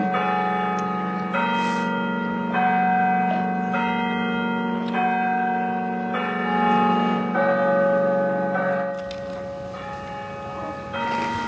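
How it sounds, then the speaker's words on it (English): A church bell chiming a slow sequence of ringing strokes, each tone sustained and overlapping the next, fairly loud and clear outdoors with no talking. "we're sitting here waiting as the bell chimes there"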